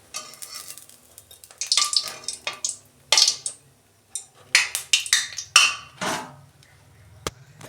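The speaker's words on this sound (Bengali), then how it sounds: "এইভাবে আমি সব মালপোয়াগুলো ভেজে নেব এক হাতা করে দিয়ে" Malpua batter frying in hot oil, a crackling sizzle in repeated loud bursts as ladlefuls go in and get stirred, with a few clinks of a utensil against the pan and quieter gaps between.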